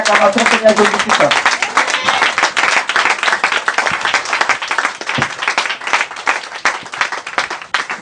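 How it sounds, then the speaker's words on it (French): A church congregation at a revival service in Korhogo claps loudly and steadily in acclaim of Jesus Christ, a dense wash of applause with scattered cheers and voices mixed in throughout. "Donnez une acclamation au Seigneur Jésus-Christ"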